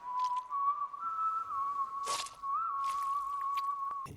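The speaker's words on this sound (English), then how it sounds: "when this guy whistles, bad things are about to happen" Someone whistles a sustained, wavering tune, close and clear, with a few brief breathy noises in between.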